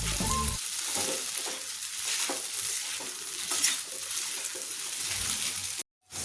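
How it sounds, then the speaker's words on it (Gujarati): Sabudana khichdi with potatoes is stirred in a frying pan, a steady close sizzle with scraping spoon strokes running throughout, briefly cutting out near the end. "બરાબર હલાવી લેવાનું છે"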